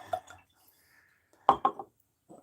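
A drink poured from a freshly opened bottle: a few faint clinks, then a short burst of glugging splashes into a glass and a small trailing drip, all quiet and close.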